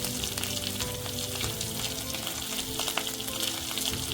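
Garlic and ginger sauté in a pan for a vegetable Manchow soup, giving a steady, close sizzle with small crackles and occasional scraping stirs throughout, no voices.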